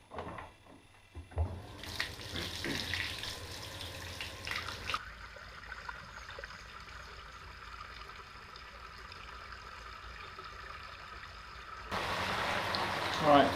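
Water rushes and pours steadily into a tank for several seconds, a continuous broadband wash that swells louder near the end, with faint talk at the start.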